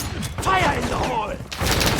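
Gunfire in Warzone 2, a quick patter of shots across two seconds under a shouted in-game voice callout.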